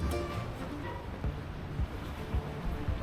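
Water bus on the Saen Saep Canal pulling away from Thongler Pier Station, a low churning engine rumble with water wash and wind buffeting the microphone, steady and fairly close.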